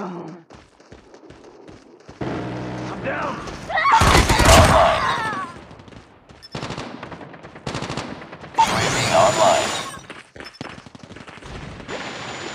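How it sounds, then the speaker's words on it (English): In a Call of Duty match on the Shipment map, automatic gunfire from a sentry gun comes in rapid bursts. The sharp volleys are loud and close, mixed with other weapon noise and in-game voice callouts. "Hostile sentry gun in your AO."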